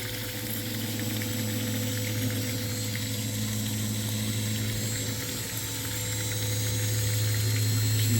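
A Milwaukee submersible pump runs steadily as it pumps water, giving a constant loud hum with a steady whirring drone and a watery rush. The sound stays even throughout, with no voices.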